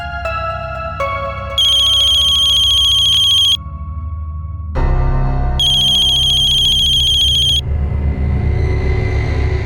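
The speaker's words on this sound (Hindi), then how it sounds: "वो आंटी घर से फोन है।" A phone ringtone plays a repeating electronic melody with bright, chiming bursts. Partway through, a low rumble joins in under it.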